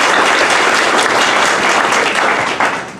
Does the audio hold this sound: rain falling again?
no